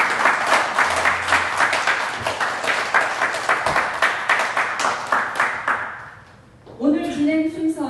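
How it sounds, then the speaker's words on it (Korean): Audience applause at a New York Korean community association presidential candidates' debate, dense clapping for about six seconds that fades out, followed by a brief spoken voice. "두 분 후보들께 먼저 질문이 주어지기 전에 여러분 박수로 응원을 부탁드립니다."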